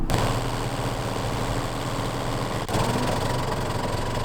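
A sewing machine stitching a pocket onto thick quilt pants, a steady fast mechanical hum and rattle running continuously with a brief hitch midway.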